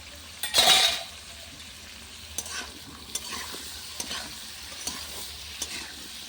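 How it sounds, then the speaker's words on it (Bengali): Vegetables including beans frying with turmeric and salt in a pan over a clay stove: a steady soft sizzle under repeated scraping stirs, opening with one louder clatter, with no talking. "সবজিগুলো ভালো করে ভেজে নেবো"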